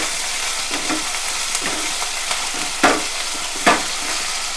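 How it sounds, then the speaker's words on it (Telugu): Tempering spices sizzling in a kadai for a fish curry, a continuous close crackling hiss with a few sharper scrapes and taps of a stirring spoon. "ఓ పక్కన ఇది తాలింపు అవుతుంది"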